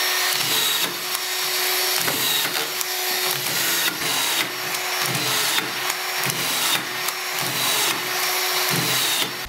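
Tape-fed drywall screw gun running at its faster second speed, driving screws in a quick repeating cycle of whirring bursts and clicks over a steady motor whine, close and loud with no talk.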